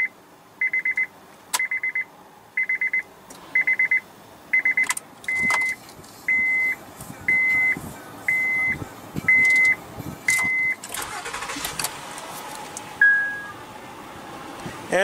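A 2015 Honda Pilot with a 3.5-liter V6 idles inside the cabin, under a steady series of repeated electronic warning chimes and occasional clicks, before the engine noise swells more broadly near the end.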